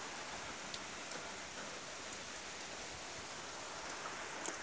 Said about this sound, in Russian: Вот так льет дождь.